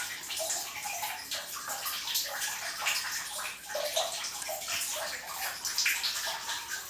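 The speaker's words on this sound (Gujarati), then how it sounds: "ટપક જો આ રીતનું પાણી ચાલુ જ રહે છે" Water at a Tapkeshwar Mahadev shrine pours and drips continuously from a cow-mouth spout into a stone pool, a steady splashing, gurgling flow heard up close without speech.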